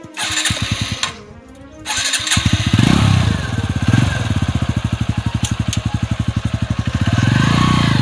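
A motorcycle engine idles, then picks up into a rapid, loud, rhythmic chugging as the rider releases the clutch, close by and dominating the scene.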